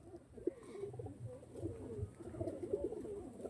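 Tournament-quality pigeons cooing in soft, repeated low throaty phrases, fairly close and steady throughout, with light background noise.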